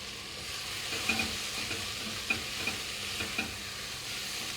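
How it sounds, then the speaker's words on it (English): Fried rice sizzles steadily in a hot pan while being stirred, with a soft continuous frying hiss and a few sharp scrapes and clicks of the utensil against the pan. "I have to stir this for 5 more minutes"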